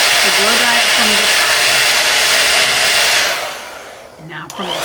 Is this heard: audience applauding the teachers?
no